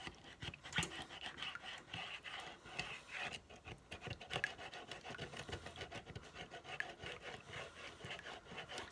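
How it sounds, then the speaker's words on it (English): A dog indoors near a kitchen pants and scratches or rubs at something, producing irregular rasping scrapes and quick breathy puffs at fairly low volume, with no speech. "And I think my dog needs to go out."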